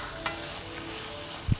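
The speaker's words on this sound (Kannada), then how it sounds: "ಈ ಟೈಮಲ್ಲಿ ನಾನು ಟೊಮೆಟೊವನ್ನು ಹಾಕ್ಕೊಳ್ತಾ ಇದ್ದೇನೆ" Chopped tomatoes frying in a pan for paneer butter masala, a steady sizzle with a light stir and a low clunk of the spoon near the end.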